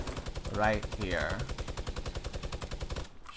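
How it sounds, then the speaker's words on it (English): Rapid automatic gunfire rattles steadily through a Fortnite Battle Royale match, loud and continuous beneath a player's brief remark, then cuts off abruptly near the end. "I hear gunfire"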